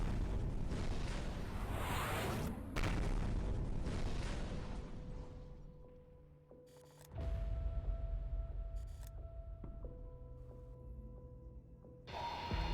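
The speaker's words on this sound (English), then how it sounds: "We're going to start hitting these guys with missiles." Missile strikes explode in the war strategy game Conflict of Nations as a dense rumbling boom that fades, then a second blast. Sustained tones and game effects hang over it, loud and without talk.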